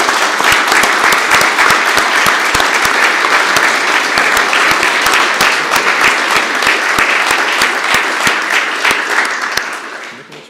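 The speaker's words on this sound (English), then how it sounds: "Can we have a great round of applause for our 4 new police officers?" Sustained applause from an audience at an Erie police swearing-in ceremony honoring four new officers, dense steady clapping that holds for about ten seconds before tapering off at the end.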